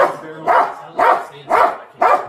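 A police K9 dog barks hard and close during a bodycam arrest at an apartment complex, five loud barks spaced about half a second apart in a steady rhythm.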